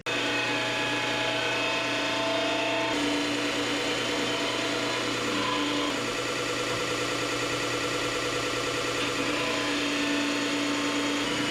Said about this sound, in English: We're just gonna take these to the bench grinder right here.